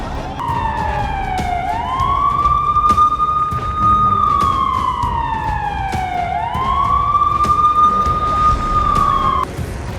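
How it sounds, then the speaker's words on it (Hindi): A loud warning siren before a building demolition wails in long rising and falling sweeps, two full cycles, over a noisy outdoor background. "सारी तैयारी होने के बाद पहला सायरन दोपहर 2 बजे बजना शुरू हुआ"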